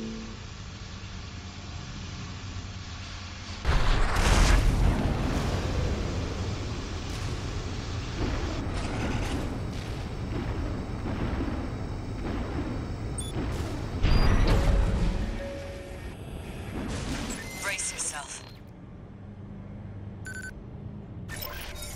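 A launcher fires a container in the Armored Core VI video game, with a heavy boom and roaring rush that rise twice over steady mechanical rumble before fading to quieter clanks near the end.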